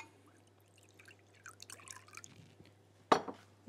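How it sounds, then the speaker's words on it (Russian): Faint drips and splashes of cold water poured into a container, followed by a sharper clink of liquid hitting glass, over a low steady hum. "Я налью в нее холодную воду."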